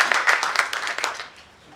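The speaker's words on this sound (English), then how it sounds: "So let's give them a round of applause." Crowd at a sheriff-coroner Donate Life flag raising ceremony claps in a short burst of applause that starts full and quickly fades away, outdoors and fairly near, with no speech over it.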